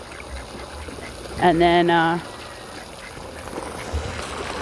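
Male ducks in a pool, among them a white drake, give a single loud, drawn-out quack over steady outdoor background noise, with people talking.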